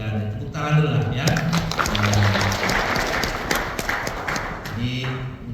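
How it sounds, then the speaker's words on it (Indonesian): A workshop audience on social forestry planning in NTB gives a short burst of applause, with scattered clapping and voices talking over it. "Tepuk tangan dulu lah ya."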